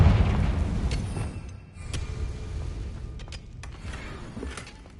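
The Confringo blasting spell in the video game Hogwarts Legacy sets off a heavy boom at the start, followed by rumbling debris and several sharp cracks and pops fading over a few seconds.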